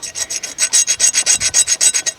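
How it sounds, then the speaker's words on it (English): A muzzleloader rifle nipple from a Thompson Center Hawken is turned slowly against a metal file, giving a steady run of about fifteen rhythmic rasping strokes, close and loud with no talk. "I just go to slowly turn it around on this file"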